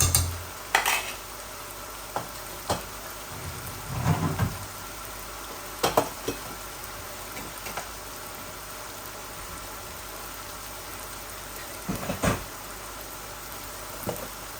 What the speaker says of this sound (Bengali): এই ভাজা ভাজা হচ্ছে, হয়ে গেছে।